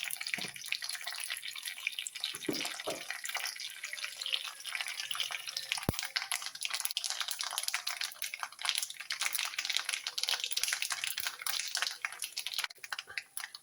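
Steady dense crackling and popping of mustard seeds in hot oil, continuous and close, with a few sharper pops.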